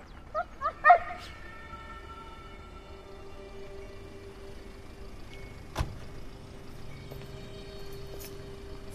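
Several dogs give a few short yips and whimpers at the start, close and fairly clear, then fall quiet against a steady low hum for the rest.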